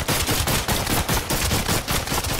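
Sustained automatic gunfire fills a firefight in Entropic Delay: Prologue, loud and close, with rapid shots pulsing in an even rhythm throughout and no voices.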